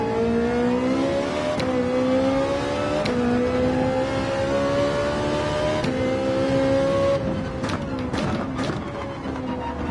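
Race car engine held at full throttle on the Daytona road course in Gran Turismo 7, a steady, loud high-revving whine with brief gear-shift dips and a rising pitch near the end.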